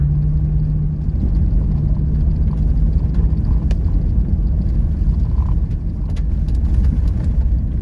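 An overland vehicle drives along a dusty dirt trail, its engine and tyres making a loud, steady rumble heard from inside the cabin, with faint rattles over the top.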